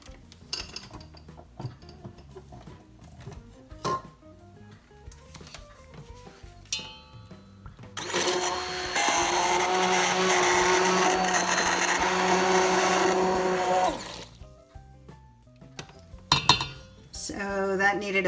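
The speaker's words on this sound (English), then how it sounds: "So that needed about a minute of immersion blending" Immersion blender pureeing pea soup in a pot, a steady loud whirring drone lasting several seconds, with clinks of utensils and dishes before and after.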